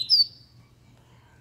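A pet papa-capim songbird lets out a single short, high, bright chirp up close, followed by near silence over a faint low hum.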